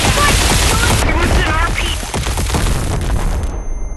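Ray gun blast from a new unreleased item in the video game Animal Company, a loud, dense burst of booming energy that fills the clip and layers with game sounds and speech before cutting off near the end.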